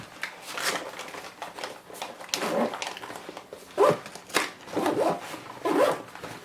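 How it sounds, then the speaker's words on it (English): A bag zipper drawn closed in several short rasping pulls, close by, with rustling fabric between strokes and no talking. "zips up nice and easy."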